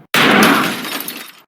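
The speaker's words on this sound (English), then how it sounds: "Bulletproof glass" A pane of bulletproof glass is struck and shatters in one sudden loud crash, the broken fragments rattling and fading over about a second, with no voices.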